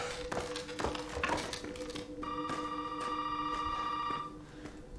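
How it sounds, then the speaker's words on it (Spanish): A telephone rings in Resident Evil 7, a single sustained electronic ring lasting about two seconds that follows some scattered tapping and clunking, heard clearly without any talk. "Y no quiero contestar el maldito teléfono"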